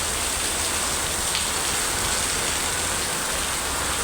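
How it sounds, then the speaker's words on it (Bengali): Steady, dense rain hiss fills the whole stretch at an even level, with no voices heard. "আর এদিক দিয়ে দেখো কি পরিমাণ বৃষ্টি পড়তেছে"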